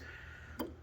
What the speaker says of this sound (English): So that's that clicking noise you hear